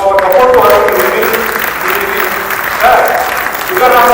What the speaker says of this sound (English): let's give a big round of applause to show our support to Arun